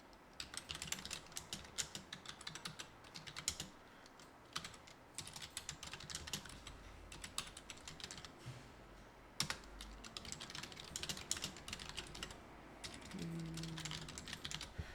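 Steady typing on a computer keyboard, the clicks coming in quick bursts and short pauses across the whole stretch, close and clear with no voices.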